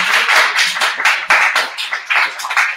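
Audience clapping for a speaker at a GameX event, a close, loud run of distinct claps with an uneven rhythm, sounding like a small group rather than a big crowd.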